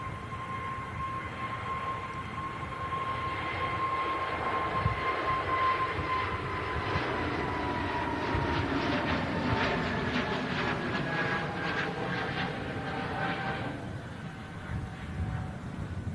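A C-17 military transport aircraft arrives, its jet engines producing a steady, smooth roar and whine that builds and holds, heard from a distance with no voices.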